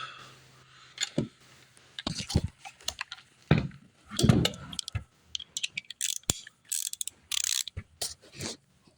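An impact wrench works on the suspension during a traction bar install on a 1992-2000 Honda Civic or 1994-2001 Integra, firing in short, close rattling bursts separated by quiet gaps and scattered clicks.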